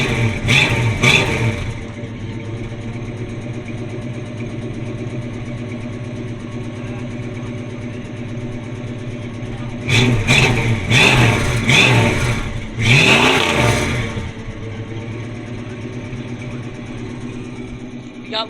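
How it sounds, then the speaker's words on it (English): A 1973 Plymouth Satellite Sebring V8 idling low with a steady exhaust rumble, broken by three short throttle blips near the start, middle and end, each rising sharply and falling back to idle. "Listen to the exhaust."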